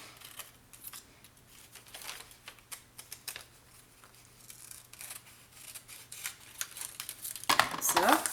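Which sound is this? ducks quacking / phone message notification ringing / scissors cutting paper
scissors cutting paper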